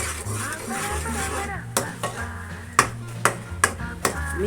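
A spoon stirs cardamom-spiced batter in a pan, giving a series of close, sharp scrapes and taps at a loose rhythm, while a voice talks over it.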